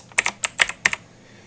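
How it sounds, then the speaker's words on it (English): Computer keyboard keys tapped in a few quick bursts, ending in a firmer keystroke like Enter being pressed, close up and clear in a quiet room with no talking. "and then hit enter on my keyboard"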